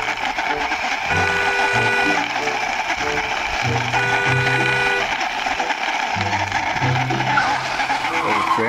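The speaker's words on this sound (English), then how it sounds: "now I will hand drive one by one all of these toy vehicles with my hand" Toy vehicles pushed along by hand on a surface, giving a continuous close whirring and rattling roll with repeated tonal squeaks and bursts as the wheels turn, steady and fairly loud throughout.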